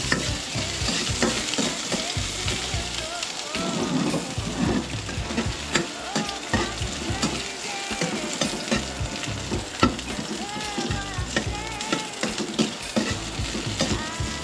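Ilocano-style adobo cooks in a pan over a gas stove on a cold night in the province, with steady sizzling and frying broken by frequent stirring scrapes for the whole stretch. No one speaks.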